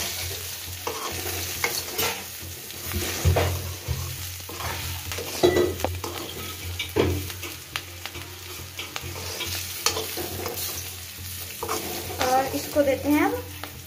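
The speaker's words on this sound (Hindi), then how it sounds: "और अब इसको थोड़ा सा हिला देते हैं तेल के साथ।" Stuffed green chillies and leftover masala get stirred in hot frying oil, a loud steady sizzle with frequent scraping and clinking of a spoon in the pan, with a faint voice in the background.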